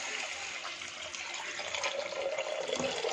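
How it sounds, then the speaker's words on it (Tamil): Water pours into a pan for thuduvalai soup after frying, a steady faint splashing and trickling wash that builds slightly toward the end, with no talking. "நம்ம தேவையான அளவுக்கு தண்ணி ஊற்றிக்கலாம்."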